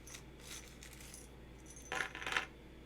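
Metal key pieces for The Night Cage tile-placement horror board game set down on a table, with soft faint clinks at first, then two brighter metallic clatters close together near the end.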